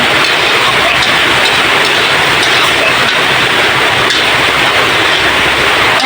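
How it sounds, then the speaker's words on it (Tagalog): Heavy rain pours down outside during home cooking, a dense, loud and unbroken hiss that stays strong throughout with no voices over it. "Palakas po ng palakas yung ulan."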